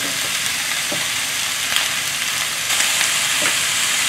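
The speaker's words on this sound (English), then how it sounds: "So we're just gonna keep stir fry." Vegetables and tofu sizzle steadily in a hot frying pan during a stir fry, a loud continuous crackling hiss with occasional stirring clatter and no talking.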